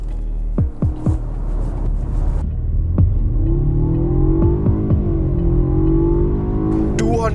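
Turbocharged Jaguar XE P250 with paddle-shift gearbox accelerating hard, engine note rising through a few quick downshift blips and then climbing steadily in a deep, continuous growl.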